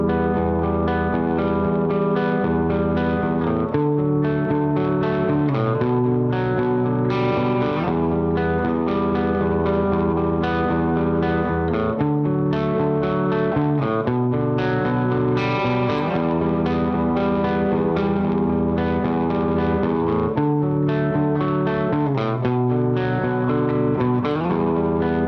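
Electric guitar arpeggios from a song run through distortion, chorus and echo effects, a dense continuous wash of shifting picked notes held at steady loudness for the whole stretch, with no voice.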